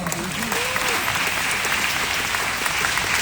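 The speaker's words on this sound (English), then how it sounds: "can we hear it once more for the Tivoli Dance Troupe" Steady applause from an audience, a dense wash of clapping that holds at an even level throughout, with a faint murmur of voices underneath.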